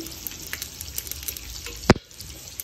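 Ingredients for chicken biryani fry in hot oil with a faint steady sizzle, broken by soft stirring clicks and one sharp clack of a utensil against the pan.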